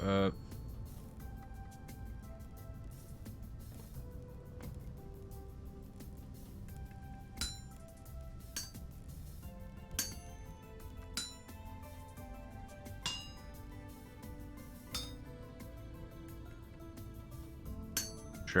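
Metal hammer strikes ring out in Vintage Story smithing, sharp clinks at irregular intervals over a steady low background drone, each hit bright and brief.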